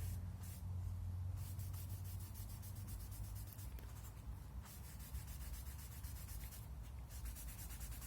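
Rubbing finish by hand into the checkered wood of a Savage/Fox Model B gun stock makes a close, steady scratchy swishing in repeated strokes, quiet and continuous with no voices.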